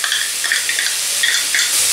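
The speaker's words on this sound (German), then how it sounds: "Und wird auch nur ein bisschen angebraten." Garlic and chili peppers fry in a pan with a dense, loud, steady sizzle and a few crackling bursts, with no voices over it.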